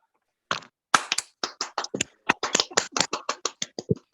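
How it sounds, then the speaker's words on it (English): Sparse, uneven handclaps from online meeting participants applauding panelists, a few people clapping close to the microphone in irregular bursts that thicken into a quick patter toward the end. "Let's get some virtual claps in."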